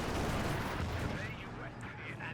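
Artillery rumble from a mortar carriage shelling a StuG assault gun in the World War II strategy game Company of Heroes 2: dense low booms and crackle under continuous battle noise, with a voice talking over it.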